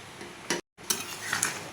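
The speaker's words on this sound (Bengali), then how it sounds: "এরপর এটাকে আমি খুব ভালোভাবে মিশিয়ে নিচ্ছি" Ghee-laced khichdi being stirred in a pot, with spoon clinks and scrapes against the metal in short bursts, a brief silent gap, then more clattering mixing, close and fairly quiet.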